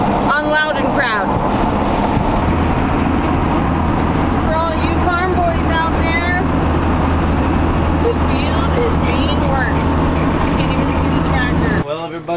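Inside a first-generation Cummins 12-valve diesel pickup on the move, a steady low engine drone and road rumble run throughout with wind noise, while people talk over it.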